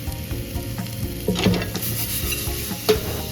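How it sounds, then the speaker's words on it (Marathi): Rava-coated bangda mackerel frying in hot oil, a steady close sizzle with scraping stirs and a few louder spatters, no voices. "मच्छी छान फ्राय झालेली आहे।"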